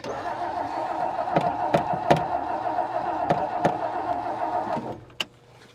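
A 1959 Meteor car engine cranking without catching, a steady rhythmic starter churn close by with a few sharp clicks, running several seconds before cutting off.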